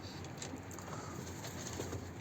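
A tumbler pigeon (white-headed dönek) coos softly in the background, low and muffled, under a steady wash of broadband noise.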